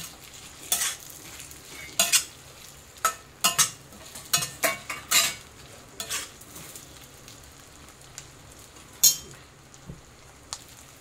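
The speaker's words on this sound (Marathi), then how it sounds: "आता आपल्याला याच्यामध्ये बटाटे टाकायचे आहे, हे पण असे मिक्स करून घ्यायचे" Potatoes are stirred into a ghee-sautéed mixture for sabudana khichdi, with a soft frying sizzle beneath a series of sharp, close spoon scrapes and clanks against the pan, irregularly spaced and louder in the first half.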